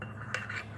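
Metal spoon stirring chicken kabsa sauce of olive oil, salt and tomato paste in a pan, a faint close scrape and a couple of light clinks against the pan.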